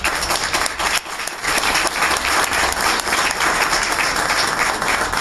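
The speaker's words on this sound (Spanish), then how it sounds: "Si le podemos dar un aplauso" A crowd at a political event in Cuajimalpa gives Claudia Sheinbaum a loud, dense round of applause. The clapping fills the whole stretch at a steady level with no talking.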